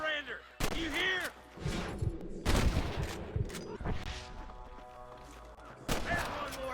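Repeated gunshots crack out in bursts during a shootout with snipers in Red Dead Redemption, sharp loud reports mixed with game voices talking and ambient noise.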